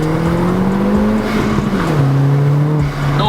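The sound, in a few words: Volkswagen Golf GTI 20th Anniversary Edition accelerating in second gear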